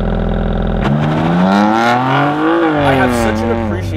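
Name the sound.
BMW M2 Competition accelerating with launch control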